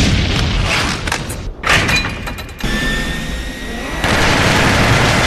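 Heavy gunshot blast effects in an anime fight, several loud, booming bursts close together, followed by a sustained rumbling roar with a thin, high whine.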